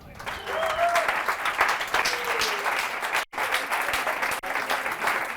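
Steady applause from a conference audience, dense clapping that carries on for several seconds with a brief drop partway through, and a few voices calling out underneath.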